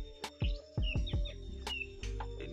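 Short bright chirps and whistled notes from a white-rumped shama (murai batu) songbird, several calls in quick uneven succession, close and fairly clear over a low steady background hum.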